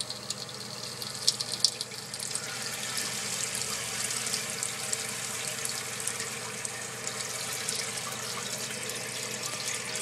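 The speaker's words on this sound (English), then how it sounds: "The tank is going to fill up." A toilet tank refilling with water after a fill valve replacement, a steady hissing, rushing flow with a few brief rattles early on, continuing evenly throughout.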